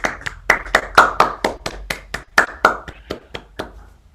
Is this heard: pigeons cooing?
no